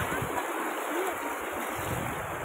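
Steady broadband rush of flowing river current outdoors, a continuous wash of water sound with a faint low rumble, fairly close and filling the scene without pause.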